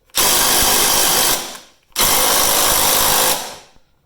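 An impact wrench drives a Gearwrench Bolt Biter socket in two loud, sustained bursts of rattling hammering, each about a second and a half long with a brief gap between them.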